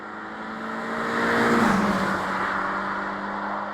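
A Subaru BRZ sports car engine revs as the car sweeps past, its droning note swelling to a loud peak midway and then easing off slightly as it carries on, with no voices.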